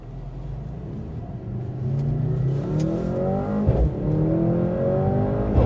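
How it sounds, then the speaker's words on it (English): A 2024 Mercedes-AMG C63 S E Performance engine revs and accelerates in traffic with a steady rumbling exhaust note, building in loudness, with a brief sharp crackle partway through. "Got some pops and crackles from that exhaust."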